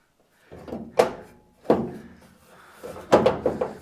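Aftermarket rocker panel being worked into place against a partially closed door on a Chevy C10 during a restoration, heard as several loose metallic thunks and knocks spaced over a few seconds, close by with no talking.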